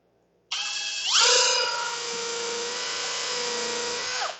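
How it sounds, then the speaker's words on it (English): A high-pitched electric drill whines steadily, revving up sharply near the start and holding a strained, buzzing tone as it bores holes for a spline jig, then cutting off. "Hold these in place and drill some holes."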